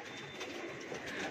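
Wild pigeon cooing softly outdoors near a house facing a hillside in Mumbai, a faint continuous low murmur with no talk over it.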